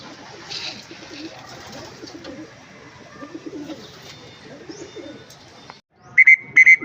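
Soft, low cooing of pigeons over a quiet outdoor background, followed near the end by a few loud, sharp chirps close by.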